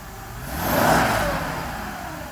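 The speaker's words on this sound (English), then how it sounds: "So let me blip the throttle real quick." A Mercedes engine revs up briefly as the throttle is blipped, the mid-pitched roar swelling and then easing back toward idle, loud and close with no talk.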